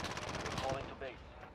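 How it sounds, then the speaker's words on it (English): Gunfire in Call of Duty: Modern Warfare crackles as a rapid, dense automatic burst, loud and close, with a brief tonal game sound mixed in and faint voices underneath. "I hear shooting in your AO."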